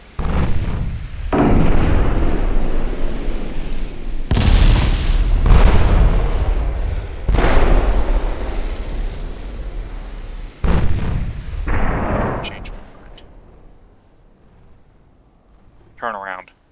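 Naval gunfire in Ultimate Admiral: Dreadnoughts, with 1.1-inch guns firing as loud booming bursts that roll on across the clip before fading near the end, mixed with a voice.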